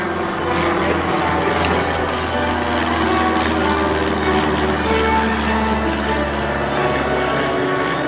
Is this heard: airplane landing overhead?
yes